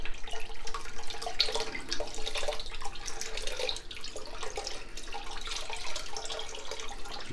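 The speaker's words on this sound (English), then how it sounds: "So now I add the warm wine reduction and the rest of the beef broth." Warm wine reduction and beef broth are poured into a beef stew pot, making a soft, continuous splashing trickle of liquid at moderate distance with small bright drips, fairly quiet and steady, with no voices.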